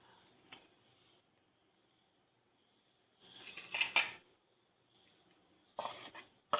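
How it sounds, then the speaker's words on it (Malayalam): Chicken 65 batter of egg, cornflour and rice flour being mixed, heard as two short bursts of spoon clattering and scraping against a bowl between long quiet gaps, close and without speech. "ഇനി നമുക്ക് ഇതൊക്കെ പാടെ മിക്സ് ചെയ്യാം."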